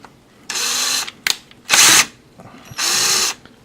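A power drill boring about 3/4 inch into extremely soft wood whirs in three separate bursts of about half a second each, close and loud, with short quiet gaps and small clicks between them.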